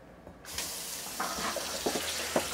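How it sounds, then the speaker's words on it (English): Water gushes steadily from a sink faucet in a 2022 Airstream Flying Cloud 23FB trailer after the tap is opened, with a few light clunks and splashes over the running stream. "I'm going to open a water valve over here on the sink."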